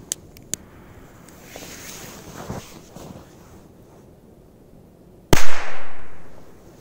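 A Korsar 1 firecracker set off outdoors in frosty weather gives one sudden loud bang near the end that trails off into a fading rush, preceded by faint clicks, rustles and a couple of small sharp pops.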